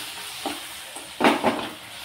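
Bottle gourd curry is stirred in a hot pan with salt, chili powder and garam masala: a steady sizzle with a few soft scraping stirs close by, and no talking.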